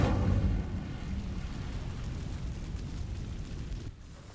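An Incendio fire spell is cast in Hogwarts Legacy: a dense, roaring whoosh of flame bursts out loud and close, then sustains as a rushing crackle before easing off at the end.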